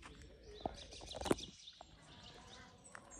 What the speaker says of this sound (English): Look at those cool birds over there.